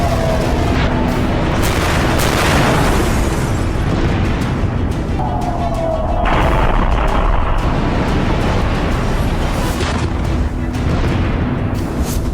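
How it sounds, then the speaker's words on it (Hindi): A heavy explosion roars with a dense, rumbling boom that sustains for several seconds, loud and broadband, with no talking. "ये धमाका देखिए और इसकी आवाज सुनिए।"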